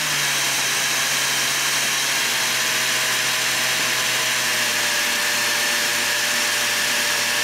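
A Mirka DEOS electric finishing sander runs at high speed, a loud, steady whirring hiss with a faint motor whine that holds unchanged throughout, with no voices over it.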